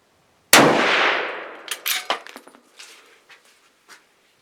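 A single loud shot from a Performance Center T/C LRR .308 rifle cracks sharply, then decays, followed by several clinking, clattering impacts of something falling and bouncing, fading into quiet.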